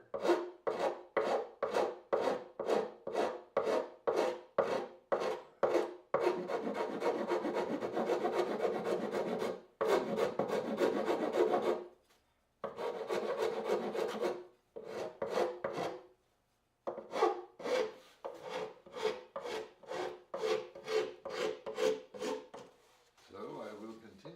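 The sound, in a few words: sanding a guitar by hand with sandpaper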